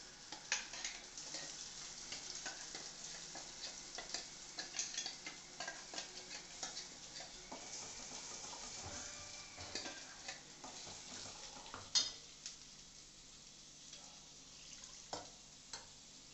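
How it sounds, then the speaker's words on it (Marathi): Ground cashew masala gravy sizzles and is stirred in hot oil with whole spices in a home kitchen, giving a faint steady frying hiss with soft scraping and clinks, and no talk. "मिक्सरमध्ये आपण ती मगाशी जी ग्रेव्ही केली ना, ती परतून घ्यायची तेलामध्ये."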